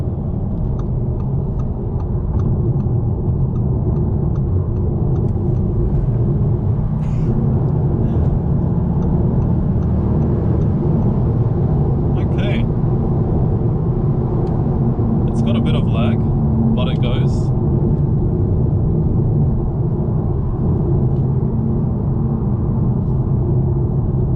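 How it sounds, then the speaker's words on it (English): An Audi SQ2 accelerates onto a motorway, a steady loud engine and road rumble throughout with a few faint ticks, heard from inside the cabin. "we're gonna be jumping into the motorway, see how it feels, giving it some beans"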